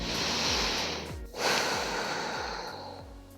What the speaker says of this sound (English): You want to breathe all the way down into your belly through your nose and exhale again slowly through your nose.